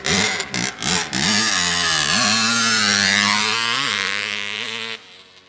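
1973 Suzuki TM250K two-stroke motorcycle engine revving hard, a few quick blips then a sustained loud, raspy wail that climbs and holds before cutting off, close and very loud.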